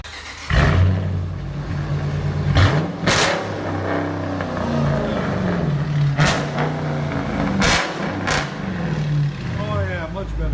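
A 2017 Dodge Charger 5.7 HEMI with straight-pipe dual exhaust (resonator and muffler deleted, factory X-pipe) rumbles at close range with a deep steady idle and a few sharp revs, with a voice heard over it.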